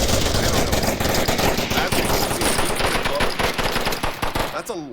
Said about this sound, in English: Putting rounds through all the boxes, just keeping him tucked down.